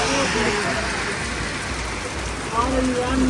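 Heavy rain pours steadily during flooding in villages near Moga, a dense close hiss, with a passing vehicle's engine faintly beneath; no words spoken.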